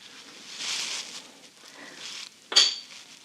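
Burleigh pottery sugar bowl in the Regal Peacock pattern being handled, with soft shuffling and scraping of ceramic, then one sharp, close clink of china near the end.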